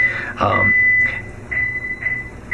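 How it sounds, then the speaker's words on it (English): A high, steady electronic alarm tone from a home security system beeps repeatedly in short bursts, loud and close, with a brief noisy rustle near the start. "It's an alarm."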